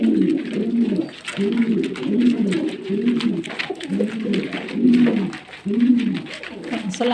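Pigeons cooing at close range, a male among them, in a steady series of soft, throaty rolling coos repeating roughly every second, with faint background sounds between calls.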